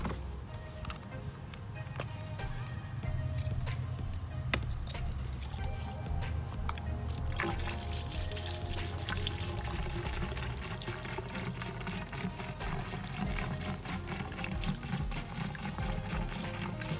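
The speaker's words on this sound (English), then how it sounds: "We're going to pour half a gallon down this side, half a gallon down the other" Pool antifreeze is poured down the plumbing line of an in-ground vinyl pool, giving a continuous gurgling, splashing flow that grows fuller and louder partway through, with faint talk beneath.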